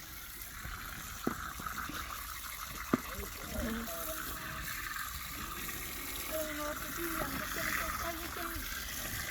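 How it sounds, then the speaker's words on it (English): Cold water gushes and splashes while goggles and a wetsuit are rinsed by hand outdoors, a continuous running flow with occasional sharp knocks, and people talking throughout. "You actually have to give it a good rinse."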